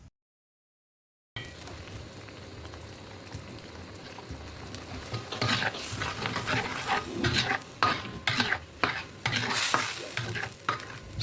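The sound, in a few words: stirring Balinese-spiced sauce for tofu and eggs in a pan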